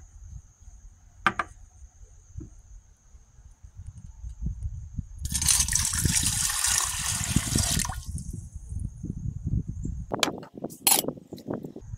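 Hydrochloric and nitric acid pour into a beaker holding gold, a few seconds of close liquid splashing and hiss between quiet clinks of glassware and a faint background whine.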